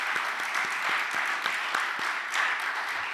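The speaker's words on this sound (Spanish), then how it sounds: "quiero pedirles un aplauso para Mauricio y Gerardo." An audience at a symposium on ethics, politics and economics applauds, a dense, steady round of clapping from many hands that holds at an even level throughout, with a few louder claps standing out.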